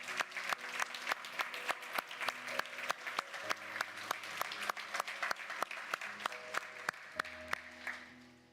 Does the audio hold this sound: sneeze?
no